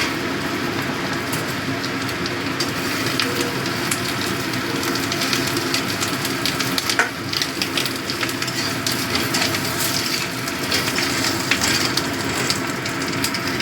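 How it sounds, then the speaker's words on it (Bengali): Potatoes frying in hot oil in a pan while preparing mutton biryani, a steady dense sizzle and crackle running unbroken and fairly loud, with no talking. "এবার এই একই তেলে আলুগুলো দিয়ে দেবো, আলুগুলো ভেজে নেব।"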